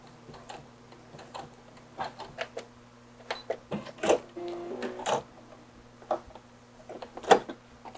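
A domestic sewing machine back stitching a seam through layered fabric, right sides together, for a small summer outfit: a few short bursts of needle clatter, with quick taps and pauses between runs, fairly close and alone.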